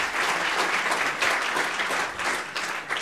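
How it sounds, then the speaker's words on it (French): An audience claps steadily, a dense burst of applause from a room full of people lasting a few seconds. "on va commencer par peut-être faire applaudir les organisateurs de la conf"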